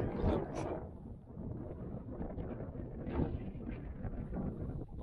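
Strong wind on the high Monte Rosa massif near the Margherita hut at over 4,500 m, gusting buffets battering the microphone in a continuous rough roar, close and heavy, with no talk.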